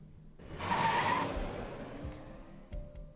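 A car pulls up nearby with a whooshing rush and a brief tire squeal, then settles to a low rumble with a few soft knocks.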